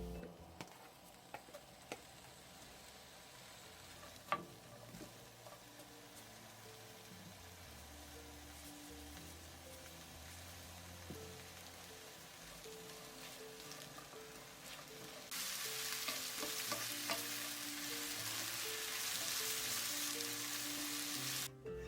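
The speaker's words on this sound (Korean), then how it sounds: "팬에 기름을 두르고 양파를 넣고 소금 한 꼬집 넣고 볶아주세요." Onion sizzles steadily in an oiled pan with a pinch of salt, low and continuous, then jumps to a louder, brighter frying hiss as it is stirred, with a few faint utensil clicks.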